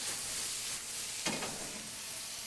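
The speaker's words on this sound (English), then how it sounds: "So now I'm going to check these artichokes and mushrooms." Artichokes and mushrooms sizzle steadily in a skillet, a soft continuous frying hiss close by, with a brief stir or shift of the pan midway.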